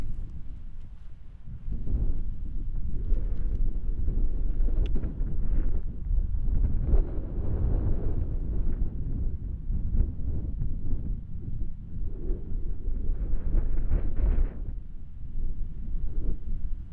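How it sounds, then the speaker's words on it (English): Strong wind buffets the microphone on a fell above Windermere near Ambleside, a loud continuous low roar with gusting surges throughout, no voices present. "the wind was picking up and it was blowing in big dark clouds from the west"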